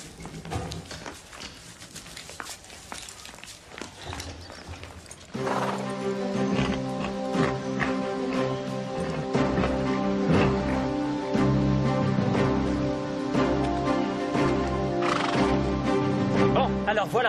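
Horses being saddled at a riding stable neigh and whinny loudly and repeatedly, with hooves clopping underneath and a muffled, quieter stretch at the start before the calls swell.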